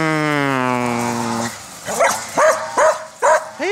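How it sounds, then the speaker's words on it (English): Neighbor's dogs bark in a short series of sharp, close barks, about five in quick succession, following a drawn-out whining, howl-like tone at the start. "I gotta show you my neighbor's dogs."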